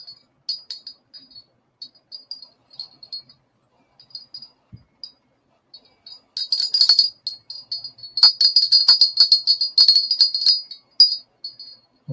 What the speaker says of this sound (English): Angel bells.